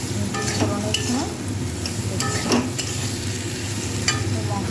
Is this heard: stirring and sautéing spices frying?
yes